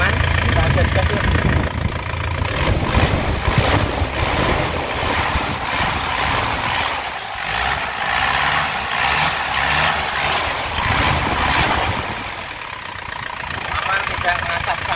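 A 2000 Isuzu Panther LS diesel engine revs up and settles back repeatedly, a loud, close, clattery rumble with rising and falling throttle blips, while someone talks over it.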